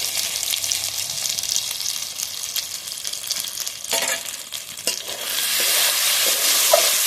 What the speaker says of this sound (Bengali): আদা রসুনের উপরে কষিয়ে নেবো, আলু সব একসাথে।